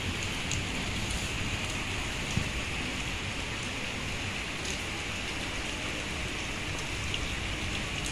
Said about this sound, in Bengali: এই দেখো বৃষ্টির আওয়াজ, বৃষ্টিগুলো পড়ছে